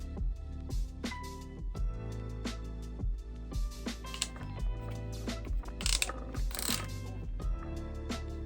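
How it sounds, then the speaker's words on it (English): Ratcheting crimp tool pressing a wire connector on a VW Mk2 Scirocco 16v fuel-injection install, a close series of sharp clicking ratchet strokes in steady rhythm, heard alone. "Now we can crimp the second side."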